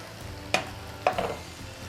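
Nigerian-style fried rice with vegetables being stirred in a pan: two distinct scraping strokes of the spoon against the pan over a faint steady sizzle, close by with no talking.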